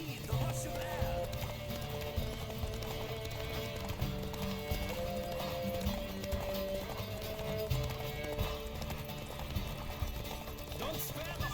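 Horse galloping during a race in The Witcher 3: Wild Hunt, a continuous rapid hoof rhythm with occasional whinnies, layered under game music and spoken voices at moderate, fairly distant level.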